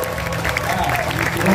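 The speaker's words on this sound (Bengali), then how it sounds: "অমিতের জন্য একটা জোরে হাততালি হোক।" A short burst of audience applause and clapping for Amit, who composed the song, heard over background voices for under two seconds.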